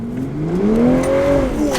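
Toyota Supra A91 CF-Edition accelerating with traction mode on, engine note climbing in pitch as it pulls hard, then levelling off, loud and close from inside the car.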